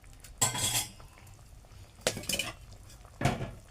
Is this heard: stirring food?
yes